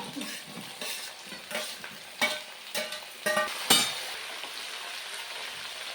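Chopped vegetables, potato and carrot among them, sizzle softly in a pan while a spoon stirs and scrapes in a series of close, irregular strokes.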